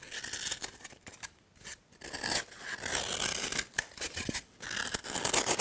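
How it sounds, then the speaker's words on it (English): A regular kitchen knife roughly cuts away at a thin sculpture block, giving repeated close scraping and shearing strokes in irregular bursts with brief quiet pauses between them. "I'll just take a regular kitchen knife and I'll just start cutting away"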